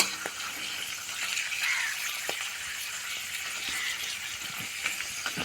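Steady, soft sizzling of potato papad frying in hot oil, with faint crackles and a few small pops, no voices.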